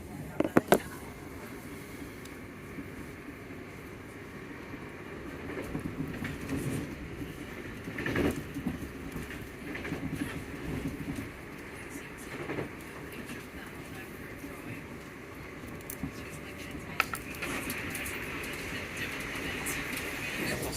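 Southern passenger train travelling from London Victoria toward Gatwick Airport, a steady low interior rumble of wheels and motors with occasional clicks and rattles, heard from inside the carriage.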